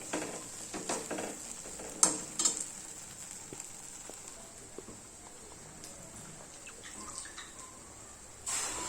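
Masala with turmeric sautés in oil for a drumstick curry, a quiet, close sizzle with scattered stirring taps and scrapes, louder early and again briefly at the end, with no talking.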